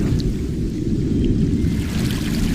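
A deep, continuous rumble of thunder rolls on in a cartoon, with a faint rain-like hiss above it.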